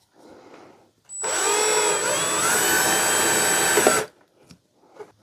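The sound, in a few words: electric drill drilling a hole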